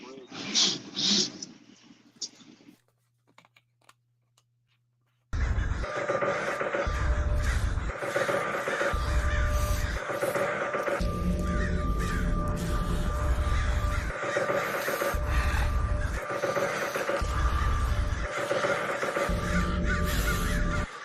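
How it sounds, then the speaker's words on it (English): Crow caws ring out over a thumping hip-hop beat while a voice raps, following a short quieter stretch at the start. "I hear the crows getting close."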